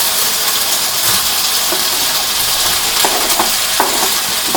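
Vegetables for beef satay noodles hit a hot pan with a steady, close sizzle and hiss, broken by a few scraping stirs, with no talking.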